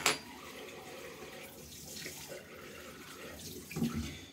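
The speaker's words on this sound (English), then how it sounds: "So the water is coming down like that." Hot water runs steadily from a tap into a basin in a home bathroom, a soft continuous splashing wash, with a brief louder splash and faint clink near the end.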